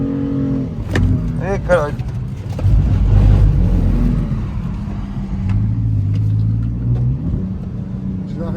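A BMW M3 engine revs while drifting on a track, with a loud, close rumble that rises and falls in surges. Voices talk over it.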